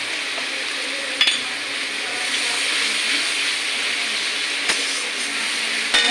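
Potatoes and pointed gourd fry in hot oil, giving a steady, bright sizzle throughout with a few sharp clicks of stirring, close and without speech.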